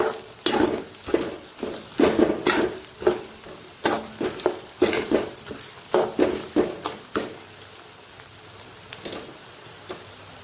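A spoon stirs tamarind and garlic in a pan for garlic pickle, with brisk, repeated scraping knocks against the metal that go on for several seconds and then thin out over a low sizzle. No one talks.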